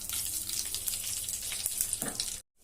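Mustard seeds, cumin and curry leaves splutter in hot oil, a steady loud crackling sizzle that cuts off abruptly near the end.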